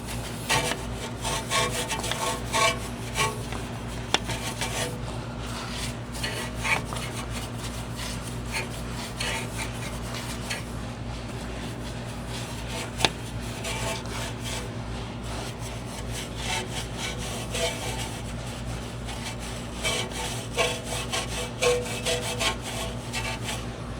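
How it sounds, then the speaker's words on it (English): A stiff barrel brush scrubs the grimy, smoke-stained air vent barrels of a heavily used smoker's car, giving a steady, close rasping rub that runs continuously without pause. "I'm gonna use the barrel brush to get right in here and really give these things a good scrubbing"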